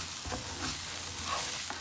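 Steady sizzling and scraping as chilies and garlic are stir-fried in a hot wok, a continuous crackle with occasional stirring clatter, no voices.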